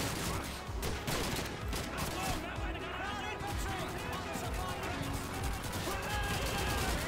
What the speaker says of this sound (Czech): To je granát.